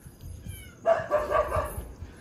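Stray dogs bark outdoors in an Archipelago community after a party, a short burst of barking rising mid-clip over low background murmur, moderately near and fairly loud.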